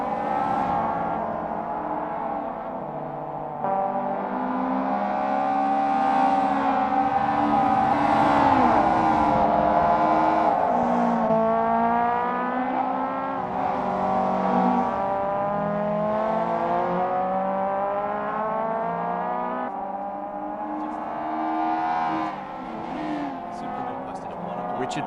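Mazda Eunos Roadster on a practice flying lap in Assetto Corsa, its engine revving loudly up and down through gear changes with occasional tire squeal, alone and close throughout.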